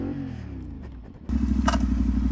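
A CFMOTO 450SS motorcycle braking hard into a stoppie, engine note dropping as it slows, then a sudden loud, rough close-up rumble with wind buffeting.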